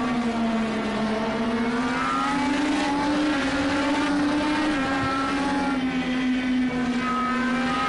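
IndyCar race cars in Project CARS 2 braking into the Andretti hairpin at Laguna Seca, a loud steady engine whine with shifting pitch sustained throughout, no voices.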